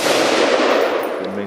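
A single loud FS2000 rifle shot, fired by accident, fills the moment with a dense burst that decays over about a second and a half.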